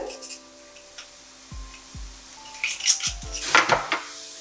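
A metal utensil clinks and scrapes against a cooking pan while three cloves of chopped garlic are stirred for a spring vegetable gratin, with a few separate knocks giving way to busier clattering toward the end.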